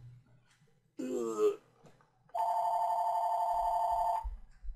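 A phone ringing during a Supreme Ruler 2020 strategy game session, one sustained electronic ring tone lasting under two seconds, heard close and clear after a man's short spoken outburst, with low thumps near its end.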